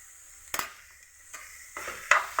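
Sharp metallic taps of a cooking utensil on a pan, a few separate knocks spaced apart over a soft background of stirring and light sizzle, fairly close and moderately loud.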